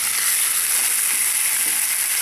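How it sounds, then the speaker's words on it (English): Sausages browning in a hot frying pan give off a loud, close, continuous sizzle and crackle, with no voices over it. "the next job to do is to brown the sausages in the frying pan"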